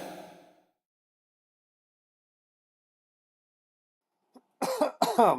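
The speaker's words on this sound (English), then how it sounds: "that's how I start off all my streams now, is just by coughing" After a long silence, a few sharp coughs burst out close to the microphone, harsh and throaty.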